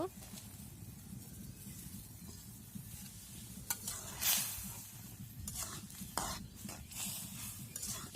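Fried mustard greens and fish go into a simmering curry, giving a close sizzle and bubbling with stirring and a brief splashy burst midway, while a voice talks over it.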